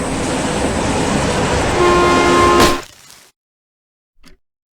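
A train in the video game Lorelai strikes a character, giving a loud, dense rumble and roar with a horn-like tone that swells to a sharp peak, cuts off abruptly into silence, then a faint thud.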